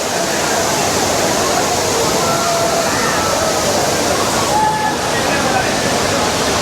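Heavy roar of Five Falls at Courtallam fills the scene steadily, with faint voices of people bathing mixed into the rushing spray.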